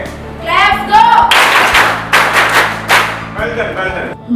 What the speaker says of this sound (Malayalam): നല്ലൊരു ക്ലാപ്പ് കൊടുക്കണേ